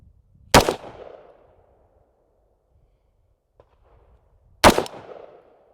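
A short-barreled AR-15 with a 4x optic fires two single loud, sharp gunshots about four seconds apart during an outdoor accuracy test, each crack trailing into a brief echo with quiet between.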